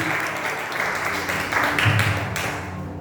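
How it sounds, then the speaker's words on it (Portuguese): A church congregation applauds during a Portuguese-language worship service, a dense steady wash of many hands clapping that swells slightly midway, with faint voices and low tones underneath. "Se você quer, aplauda o Senhor uma vez mais, viu?"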